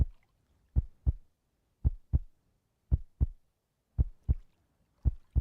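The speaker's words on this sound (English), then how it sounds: "Y'all are hearing my character's heartbeat." A video game fishing character's heartbeat thumps in regular paired beats, lub-dub, about four pairs over a few seconds, clear and isolated against near silence.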